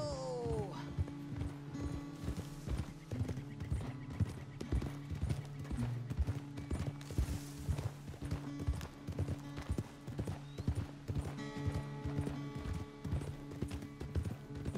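Horse hooves clip-clop in Red Dead Redemption 2, a steady rhythmic trot of hoofbeats running throughout, with a neigh near the start and character dialogue over it.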